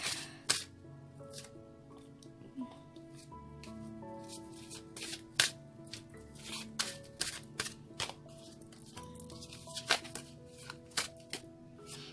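Tarot cards are shuffled by hand in quick riffles and slaps, heard as sharp irregular clicks and flutters at close range against a faint background, with no talking.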